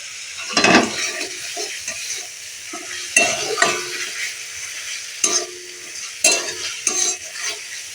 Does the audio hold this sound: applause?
no